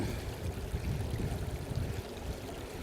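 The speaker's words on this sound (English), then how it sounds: "I'm going to rinse the carpet one direction, rinse it the other direction" Water rinsing the carpet of a gold-prospecting sluice box, a steady rushing flow with gurgling, splashing texture, moderately quiet and continuous without pause.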